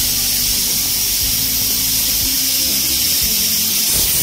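Pressure cooker whistle releasing steam while mutton curry cooks: a loud, continuous, hissing rush of steam that stays constant for the whole stretch, with a faint low rumble underneath.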